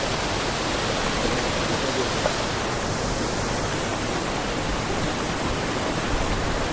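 A waterfall in a rocky mountain valley, heard as a dense, constant roar of falling water that fills the whole stretch at a steady loud level.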